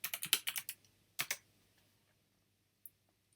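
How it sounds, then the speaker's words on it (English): Quick keystrokes on a computer keyboard entering a search query, a fast cluster of crisp clicks, a short pause, a couple more taps and a lone final key press, close and quiet in a still room. "So I'll type Steve Jobs."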